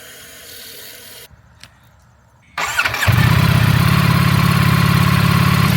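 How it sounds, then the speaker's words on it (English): A Ducati Streetfighter V4S motorcycle starts up after a short quiet pause, then settles into a loud, steady, rumbling idle close by that carries on to the end. "let's hear what this thing sounds like."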